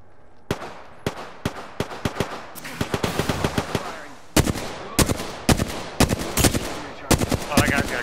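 Gunfire in a shooter video game comes as repeated sharp, loud shots in short bursts and single cracks. The shots are irregular, grow denser in the middle and go on throughout.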